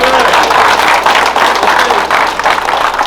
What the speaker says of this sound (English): clap it up for yourselves for coming